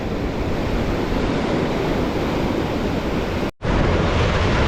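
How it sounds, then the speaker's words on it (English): A strong west wind blows by the ocean at Uvongo, loud broadband rushing and buffeting on the microphone with surf mixed in, steady throughout apart from a brief cut near the end. "West wind blowing today."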